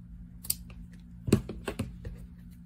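Scissors cutting ribbon material for a loopy bow, a few quiet, sparse snips and clicks close by, with one sharper cut in the middle of the sequence.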